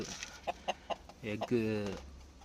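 A hen clucks several times in short, evenly spaced bursts, then lets out a longer drawn-out call, close by in a quiet setting.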